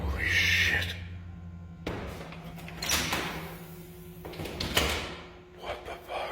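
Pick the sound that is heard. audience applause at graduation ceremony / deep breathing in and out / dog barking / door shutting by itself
door shutting by itself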